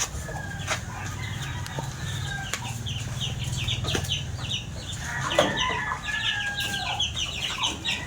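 Chickens clucking steadily nearby, several birds overlapping in short repeated calls, with a louder squawk partway through and faint background bustle.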